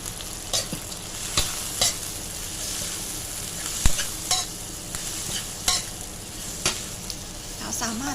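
Crispy pork sizzles steadily as it is stir-fried in a hot pan while a utensil scrapes and clacks against it every second or so, stirring close by.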